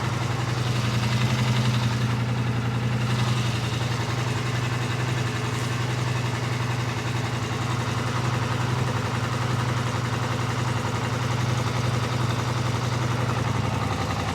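A Polaris Sportsman 1000 XP ATV engine, overheating with its fan not running, idles with a low, continuous rumble, close and loud throughout with no speech.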